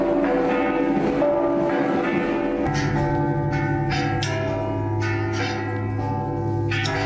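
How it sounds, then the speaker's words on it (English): Historic bells of Havana Cathedral, newly restored, ring out loud and close in overlapping, resonant strikes with long sustaining tones, several peals blending over about seven seconds with no voices. "the chiming of the historic Havana Cathedral bells after decades of silence"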